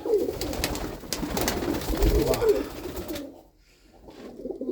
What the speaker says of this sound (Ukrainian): Голубочок такий прикольний.